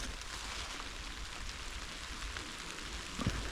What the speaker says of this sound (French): Il pleut, vous devez sûrement entendre.